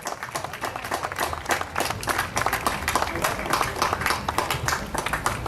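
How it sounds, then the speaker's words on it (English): Lively audience applause at a Goan festival gathering honouring a guest, many hands clapping densely and loudly in a continuous stream with crowd murmur beneath. "A big round of applause, please."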